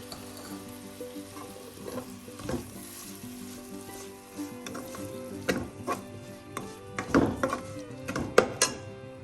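Onions and finely chopped tomato sizzle in a pan for a Kerala halibut fish chilli curry, with a spoon stirring and scraping in irregular strokes over a steady close fry, the knocks growing louder toward the end.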